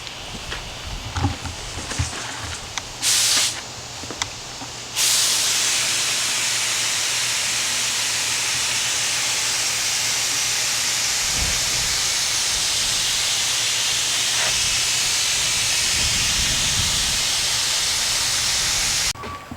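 Spray gun laying down a wet coat of Aspen Green acrylic enamel single-stage paint on a 2002-2008 Ford, a steady broad hiss that starts after a few short bursts and runs continuously and loudly, with no talk.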